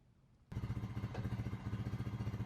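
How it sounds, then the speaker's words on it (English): A Honda Rancher ATV engine starts abruptly and settles into a loud, steady idle, its close, even rumble pulsing rhythmically with no talk over it. "Fire up the engine and see what it looks like."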